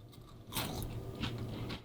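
Crisp crunching bites into dry, brittle grilled dried pollock, a few sharp crackles close to the mic over a quiet background hum.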